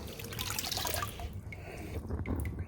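Water being poured off gold prospecting dirt outdoors, a steady close splashing and gurgling pour that thins into drips toward the end.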